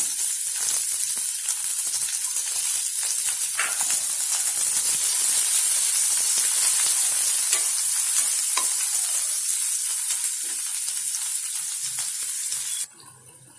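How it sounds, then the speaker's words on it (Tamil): Chopped large onion sautés in a hot pan for chickpea sundal, a continuous loud sizzle with occasional scraping stirs, heard alone without talk until it drops off near the end. "ஒரு பெரிய வெங்காயம் கட் பண்ணி வச்சிருக்கிறேன், அதையும் சேர்த்து வதக்கிக்கலாம்"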